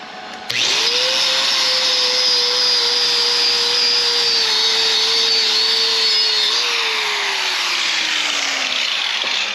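A wire wheel spins up on a grinder and scrubs a 6011 stick weld, a loud steady whining hiss with a pitch that sags slowly as it bites, running alone for about nine seconds.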